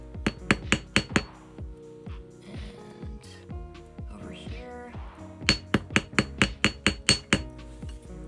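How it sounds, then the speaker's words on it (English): Thin silver earring wire being flattened with a small hammer, sharp metallic taps in quick close bursts, a pause with a brief remark, then another rapid run of taps. "this one's a little bit thinner, so it flattened out a little bit more with the hammering"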